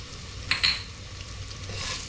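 Ground chili and spices hit hot oil in a pan with a brief crackling sizzle and a light stir, close and fairly quiet.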